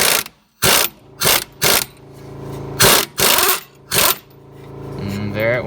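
An Earthquake XT EQ1 stubby air impact wrench hammers at a rusted bolt in about six loud, close bursts with short pauses between them, and a voice speaks near the end.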